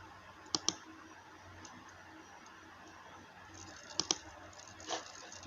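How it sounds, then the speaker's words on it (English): Computer mouse being clicked while working in design software, two quick double-clicks, sharp and close, then another pair and a softer tap, in a quiet room. "I'll right click on it, then go to"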